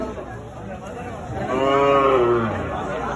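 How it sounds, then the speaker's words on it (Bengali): A cow lets out a loud, drawn-out moo close by at a village livestock market, rising and fading over about a second, with crowd chatter and a voice underneath. "দেশি গরু, ছোট ছোট দেশি গরু।"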